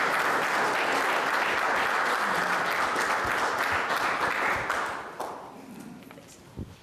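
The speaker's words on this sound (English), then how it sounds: "to your roaring, thunderous applause" An audience at a community safety meeting gives a dense, sustained round of applause from many hands that gradually thins out and fades away.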